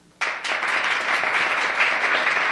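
A live crowd of about 800 people bursts into applause at a singer's concert performance, the clapping starting abruptly and holding as a steady, loud wash.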